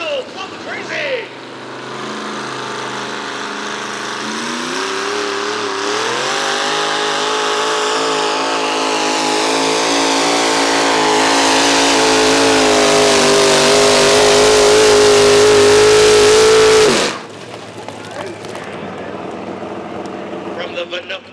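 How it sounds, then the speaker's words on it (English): GMC pulling truck with a 638 cubic inch Merlin engine at a truck and tractor pull, revving hard in a loud, rising roar that holds for about fifteen seconds and then cuts off abruptly, with an announcer talking over it. "GMC with a 638 cubic inch Merlin. This thing makes some noise"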